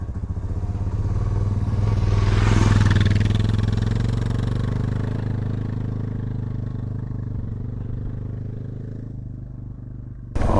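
Motorcycle pulling away from a campsite onto a gravel road on the Paunsaugunt Plateau in Utah, with a loud close engine rumble that swells as it accelerates and then drones on steadily, with no talking.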